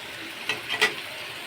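Fish is sautéed in oil and spices for a spicy fish curry, giving a soft, faint sizzle broken by a few light stirring scrapes in the pan.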